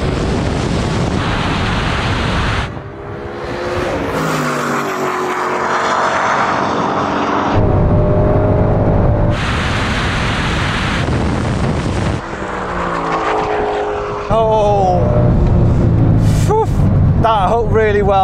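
A Mercedes-AMG SLS Black Series and a Ford Mustang Shelby GT500 launch in a drag race, engines roaring loud and close in rising surges with heavy wind buffeting, while people talk over them.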